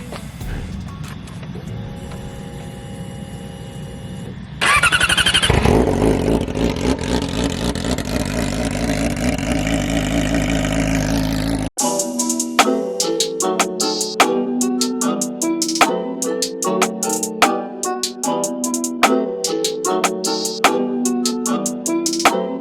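A motorcycle fitted with an aftermarket exhaust revs hard, a loud, rough, sustained roar lasting several seconds after a quieter lead-in, then cuts off abruptly as music takes over.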